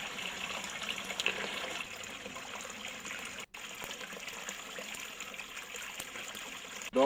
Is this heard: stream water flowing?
yes